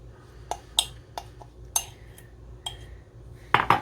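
A spoon clinks and scrapes against a mug while chocolate chips are mixed into cookie dough, a few sharp, close taps spaced irregularly, with a quick double clink at the end.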